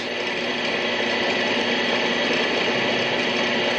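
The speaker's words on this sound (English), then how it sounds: "Just spin it freehand in a drill press." A drill press spins a part freehand, whirring steadily with a constant mechanical hum and whine, no breaks or speech.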